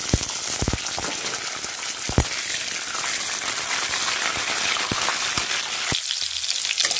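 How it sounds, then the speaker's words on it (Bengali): Chickpeas frying in oil for a Bengali spinach dish, a loud continuous crackling sizzle like rain on a surface, punctuated by sharp pops and spatters throughout; close and without speech. "বড়ি ভাজা হয়ে গেছে, এবার আমি ছোলাটা ভেজে নেব।"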